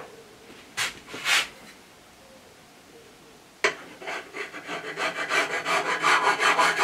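A hand tool trims a chamfer along the face of a BM16 sliding table part: two short rubs, a pause, then a sudden onset of steady rhythmic rasping strokes that grow louder, close up and with no speech.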